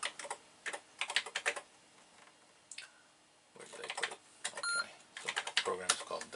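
Typing on a computer keyboard to enter a file path for a science fair microcomputer trainer setup, bursts of quick close key clicks separated by short pauses.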